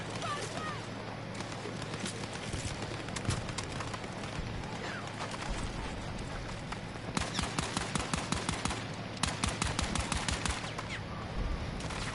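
Hip-fired weapon in Battlefield 6 rattles off rapid bursts of gunfire, with dense clusters of sharp shots standing out in the latter half over steady game ambience and background noise.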